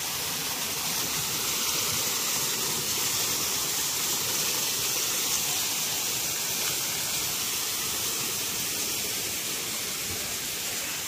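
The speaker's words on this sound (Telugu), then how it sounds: "పైనుంచి వాటర్ పడుతుంది." Steady falling water at Shilparamam, the crafts village in Hi-tech City, Hyderabad, pours down from above as an even, unbroken rush that fills the whole clip without pause and with no voices.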